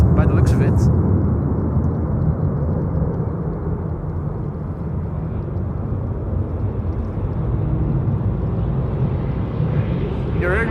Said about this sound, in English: You're hearing the sound of the Embraer 190 landing right now.